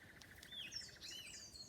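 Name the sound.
birds chirping in bushland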